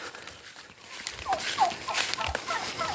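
Young turkeys on a farm give a few short gobbling calls close by, scattered over a few seconds against faint background noise.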